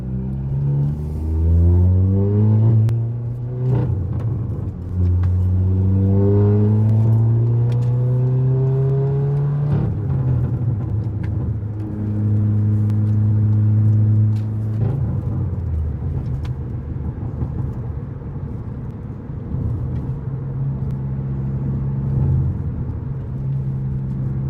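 A Volkswagen MK7 GTI with a straight-pipe exhaust drives and revs, loud from the cabin, its engine note climbing through repeated gear pulls and then settling into a droning cruise with occasional surges.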